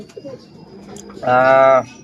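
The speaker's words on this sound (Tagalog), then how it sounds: "ito na yung ibon ni Sir Tommy Hornillos." A pigeon gives a single soft, drawn-out coo, close by, after a stretch of quiet background noise.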